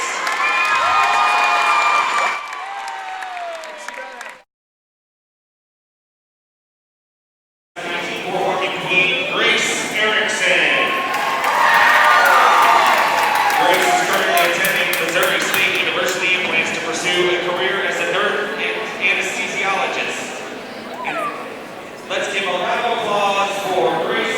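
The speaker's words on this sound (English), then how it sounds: "Please give a final round of applause for our 2020 court warming queen" Crowd cheering and applause fill a high school gym at a Liberty North vs. Park Hill South men's basketball game during a court warming queen ceremony, loud and sustained with shouts, after a short stretch of silence.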